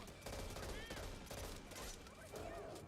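Rapid bursts of gunfire from a video game crackle in short repeated volleys, with loud clustered shots recurring several times over a few seconds, played on a Steam Deck.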